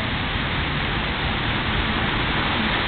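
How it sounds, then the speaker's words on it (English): A hailstorm in France on All Saints' Day pours down as a dense, continuous hiss of pellets striking surfaces, steady and enveloping without pause or voices. "this is quite a hailstorm we're having here."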